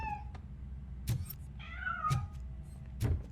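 A cat meowing in the game Robocop Rogue City, one drawn-out meow in the middle between heavy rhythmic mechanical footsteps, fairly quiet and nearby with no talk.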